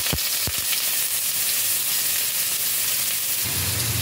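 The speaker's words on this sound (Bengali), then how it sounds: "পেঁয়াজটাকে ভালোভাবে ফ্রাই করব।" Chopped onions frying in hot white oil in a kadai-style wok for a rohu fish chop filling, a steady broadband sizzle and hiss with a couple of sharp pops at the start.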